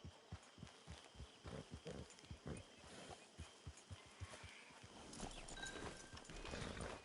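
Horse hooves clip-clopping in Red Dead Redemption 2, a steady, moderately quick trot of distinct hoof strikes that fades into a softer, more diffuse rustle of movement toward the end, with no voices.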